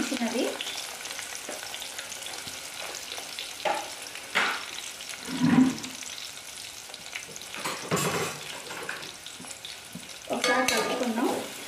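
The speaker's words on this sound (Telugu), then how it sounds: "ఆనియన్ ఎర్రగా వేగేంత వరకు వేయించుకుందామండి" Onions fry in oil in a pan as a quiet sizzle under intermittent spatula stirs and scrapes, several louder stirring bursts spread across the stretch with no talking.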